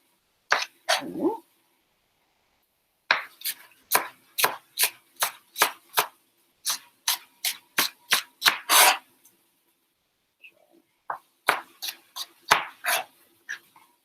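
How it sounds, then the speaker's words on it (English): Vegetables sliced on the bias with a knife on a cutting board for pancit bihon, crisp sharp chops in a quick run, a pause, then another burst of rapid cuts, close and clear with no talking. "a little bit of an angle to my knife as I cut through"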